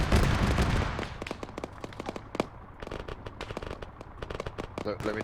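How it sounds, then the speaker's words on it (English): Rapid bursts of helicopter cannon fire from Hind gunships strafing in the video game Arma, a dense crackling barrage of shots over a battlefield, with a voice talking over the din. "Oh, there's 2 hinds doing gun runs on his ear."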